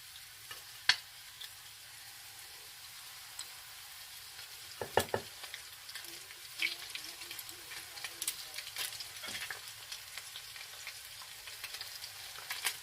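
Chicken flautas frying in hot oil, a steady soft sizzle running the whole time with a few sharper pops and crackles now and then, fairly faint and without talk.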